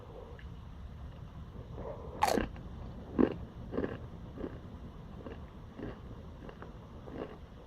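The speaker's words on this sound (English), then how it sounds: "I'm just eating chips." Frontera tortilla chips being crunched and chewed, a few distinct sharp crunches near the mouth with quieter chewing between them, alone without talk.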